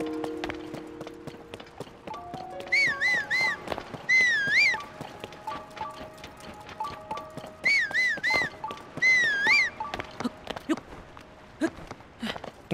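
Whistling from a character in Zelda: Tears of the Kingdom, several short warbling tonal phrases in two clusters over soft game ambience, hoofbeat-like clip-clop and brief speech underneath.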